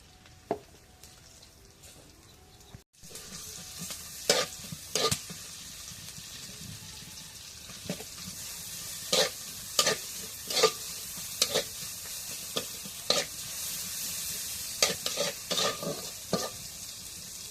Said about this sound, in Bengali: এখন পেঁয়াজ রসুন ভাজা হয়ে গেছে